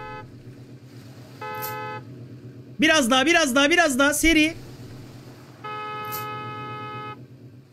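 Car horn honking in the parking-lot management game Parking Tycoon, a few steady tonal toots at moderate level with game music and someone talking over them.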